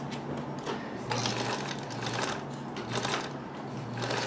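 Necchi Supernova Ultra free-arm sewing machine running a straight stitch through fabric, a fairly quiet, rapid mechanical whirring and clatter that speeds up and slows in short runs.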